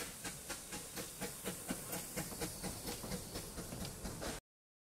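A narrow gauge steam locomotive on the Vale of Rheidol Railway in Ceredigion hisses steadily, with rhythmic chuffing beats pulsing roughly every third of a second, close and continuous until cut off.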